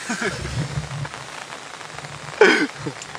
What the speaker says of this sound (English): I need to get back in the bivvy because it's weeing it down